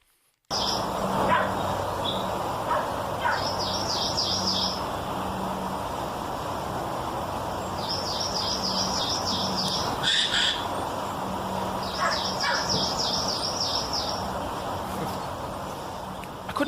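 A jay, a member of the crow family, gives repeated barking calls that mimic a dog, in short clustered bursts with pauses between, over a steady outdoor hiss.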